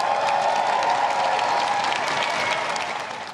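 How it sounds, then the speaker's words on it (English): A crowd applauds as a new Prime Minister arrives at Number 10, sustained dense clapping at a steady level from start to finish, fading slightly at the very end, with no one speaking. "Tradition dictates the applause doesn't stop when an arriving Prime Minister crosses number 10's threshold for the first time."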